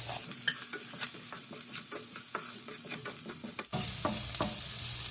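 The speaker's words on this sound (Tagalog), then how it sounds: "igisa natin ang sibuyas, bawang" Onion and garlic sauté in oil in a pan, a steady close sizzle and frying hiss with repeated scraping stir strokes. A louder burst of sizzling comes near the end.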